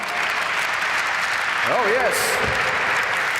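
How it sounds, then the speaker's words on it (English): An audience applauds at the Ford Focus RS reveal, a steady wash of clapping that runs throughout, while someone briefly speaks over it near the middle. "Ladies and gentlemen, a round of applause for the main man."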